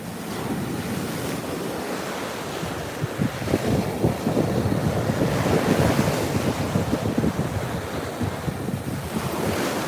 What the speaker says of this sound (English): Sometimes I just want to stand here and watch the waves.